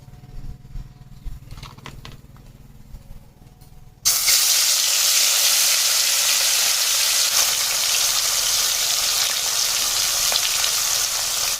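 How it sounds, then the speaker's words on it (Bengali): Fish hits hot oil in a wok and erupts into a loud, continuous sizzle that holds steady to the end, following a quieter stretch of kitchen ambience. "কড়াইতে অ্যাড করেছিলাম তেল তেলটা গরম হয়ে গেছে একে একে মাছগুলো দিয়ে দেবো"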